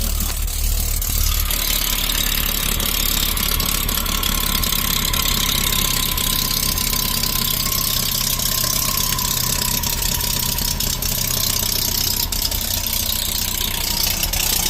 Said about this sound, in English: So it's definitely got a bit of an exhaust leak.